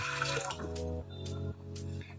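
Water pours into a cooking pot on a stove in a village kitchen, a steady splashing stream broken by short pauses as it fills, close and alone.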